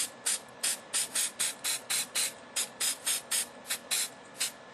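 Rapid, rhythmic short hisses of an aerosol spray paint can, about a dozen quick bursts in steady succession, close and fairly quiet.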